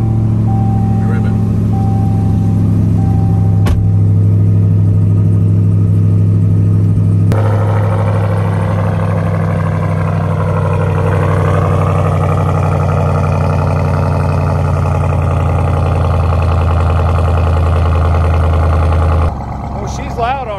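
A Ram TRX pickup truck's engine revs hard and loud inside the cab, a steady deep roar that climbs in pitch and holds before dropping off at the end, with people talking over it.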